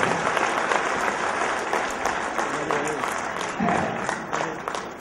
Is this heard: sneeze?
no